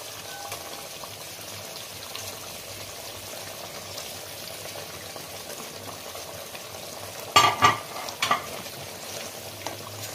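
Fish simmering in a thick yogurt curry gravy, a Bengali doi maach, bubbles and sizzles softly and steadily, with a brief clatter of utensils partway through and no talking.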